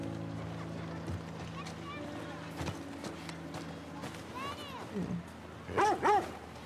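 A dog barks a few times in The Last of Us Part 2, short distinct barks near the end over a bed of game ambience and people talking.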